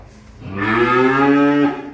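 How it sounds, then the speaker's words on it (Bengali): A nine-month-old Friesian heifer calf gives a single close, loud moo lasting about a second, a rich tonal bellow rising then cutting off, with no talk. "এই হলো আজকের তিন নাম্বার একটা ফ্রিজিয়ান বকনা বাছুর নয় মাস বয়সের"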